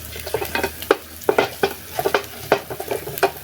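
A pan of thickening sweet and sour sauce is stirred over the heat, bubbling and sizzling beneath a run of irregular scraping strokes that come close and clear, with no talking.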